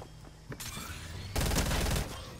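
Rapid bursts of gunfire from the video game Fortnite, a short shot then dense, loud volleys that swell and cut off abruptly, with no talking over them.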